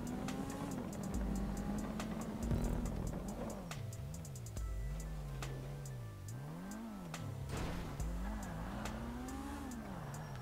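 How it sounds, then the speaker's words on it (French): A car engine roars and revs in GTA V Online during a parkour race, with loud gear-shifting pitch swings, dips and rises, and occasional tyre squeals, continuous throughout. "Elle est vraiment énervée, la voiture."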